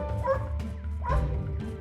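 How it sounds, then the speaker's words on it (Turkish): A dog gives a few short barks and yips mixed with whimpering, close and fairly loud, in quick bursts. "Kuyruğunu sallıyor, havlıyor ve dili dışarıda dolaşıyor."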